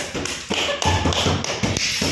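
Hands clap close and loud at a quick, steady pace, many sharp slaps in a row with no voices over them.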